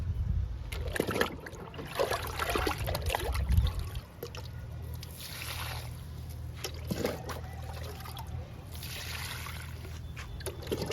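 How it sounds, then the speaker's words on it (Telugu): Liquid fertiliser trickles and splashes onto vinca plants in a home garden, in faint intermittent pours over quiet outdoor background noise. "వింకా మొక్కలకు కూడా ఇచ్చేద్దామండి లిక్విడ్."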